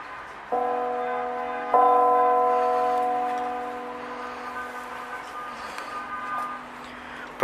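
A large bronze church bell at the Duomo di San Rocco in Dolo, 152 cm wide and weighing 2050 kg, tuned to C2, is struck twice by its hammer, each deep, resonant strike leaving a long humming decay.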